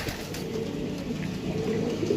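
Pigeons kept for sale at a holiday offer, cooing softly and continuously with a low warbling murmur against steady background noise, no voices present.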